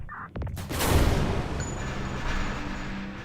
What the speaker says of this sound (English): I also don't like that I can't really hide from the explosion.